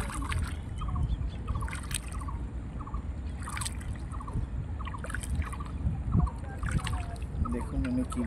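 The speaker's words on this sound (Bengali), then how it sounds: "দেখুন উনি কিভাবে নৌকাটি বেয়ে সামনের দিকে নিয়ে যাচ্ছেন" A small wooden fishing boat on a river in Bagerhat is rowed along, with soft repeated splashes and water noise close by, mixed with distant bird calls and occasional voices.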